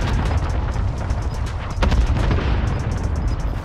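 Close air support airstrike explosions in Call of Duty Warzone make a dense series of booms and crackling blasts, with gunfire-like bursts running throughout.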